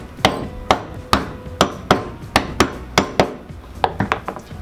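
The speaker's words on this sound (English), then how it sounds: "So one or two more hammers here." Chunks of chaga mushroom struck by a hammer, about a dozen sharp, close thwacks in an irregular rhythm with short pauses, the last few quicker and lighter.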